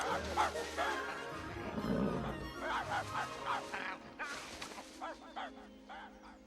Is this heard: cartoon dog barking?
yes